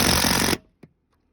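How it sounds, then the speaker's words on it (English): A power drill drives a screw into a loose gutter to reattach it, a loud steady whir lasting about half a second that stops abruptly, followed by a single faint knock. "drill it in"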